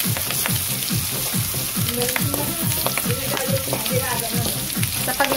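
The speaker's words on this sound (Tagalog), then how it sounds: "Parang napiprito na yung baboy." Pork and onion fry in a pan for ginataang sitaw at kalabasa, giving a loud, steady close sizzle with regular scraping stir strokes throughout.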